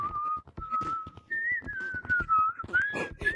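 A person whistles a wavering, sliding tune in continuous phrases, loud and close, with faint clicks and background noise around it and no talking.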